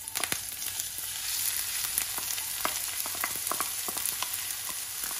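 Chopped onion, chili peppers and garlic sauté in a hot oiled pan on low to medium heat, a steady close sizzle with faint crackles and occasional stirring scrapes throughout.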